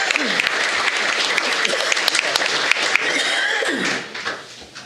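Applause breaks out at a county board of education meeting for a newly elected board member, dense steady clapping from a crowd with some chuckles and voices mixed in, tapering off near the end.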